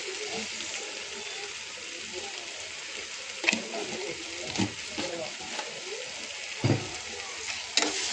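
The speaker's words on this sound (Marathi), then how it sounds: "आता मसाला छान भाजून घ्यायचा।" Masala for a prawn curry roasting in a pan, with a soft, continuous sizzle punctuated by several scraping stirs of a spoon against the pan, fairly quiet and close.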